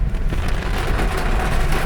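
Heavy rain pours down on a Manila street, a loud, continuous roaring wash of rain with gusts of wind and no talking.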